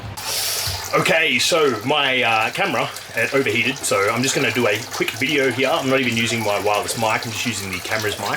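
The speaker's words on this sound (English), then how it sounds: "If you can hear water in the background," Water runs steadily from a tap behind someone speaking close to a camera microphone, a constant hiss that continues under his talk throughout.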